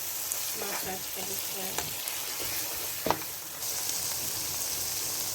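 Spices sizzle steadily in hot oil for a tadka for gosht karahi, close up, with a constant crackling hiss and a few clinks of a spoon stirring the pan.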